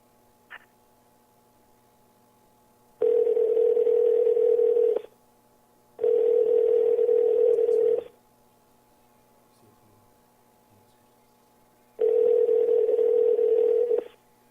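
Telephone ringback tone on a call placed to a guest, three long steady buzzing rings of about two seconds each separated by quiet gaps with a faint hum, heard alone.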